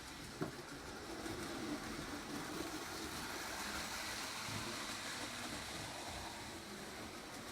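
A reconditioned prewar Lionel #254 model train runs steadily on its track, giving a faint, continuous whirring and rattling hum with a small click near the start.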